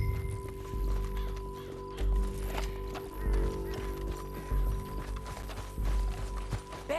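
Rhythmic hoofbeats of a horse galloping steadily in Red Dead Redemption 2, with a faint whinny and a low hum of background music underneath.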